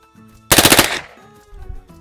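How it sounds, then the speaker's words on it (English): A close, loud rapid burst of AK-47 rifle fire at a shooting range, about half a second of quick successive cracks followed by a ringing tail, with faint talking around it. "We will let you shoot an AK-47."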